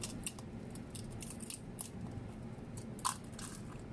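An egg is cracked for a full-moon ritual offering with a cup of water: faint, dry crunching, then one sharper crack near the end, heard close up in a quiet room with no talking.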